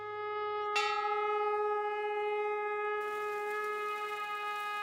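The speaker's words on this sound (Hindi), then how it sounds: "जो मंदिर के घंटों और शंख की गूंज आप सुन रहे हैं वो भगवान शिव को समर्पित है।" A large bell rings out at a Shiva temple, one loud strike whose long, humming tone sustains and slowly fades, with a steady brassy drone alongside that could be a conch.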